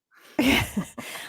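A single sharp sneeze bursts out close and loud, followed by a brief second gasp-like exhale.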